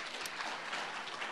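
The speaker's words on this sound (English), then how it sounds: "I think we should clap for them" A conference audience gives a short burst of steady applause, heard from a distance in the hall.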